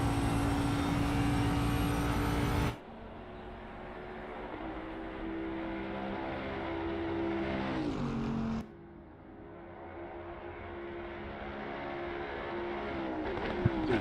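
A GT3 race car in Assetto Corsa Competizione at Spa accelerating hard, its engine note climbing through the gears with two sharp upshifts, loud and continuous with no talking.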